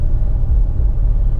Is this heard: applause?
no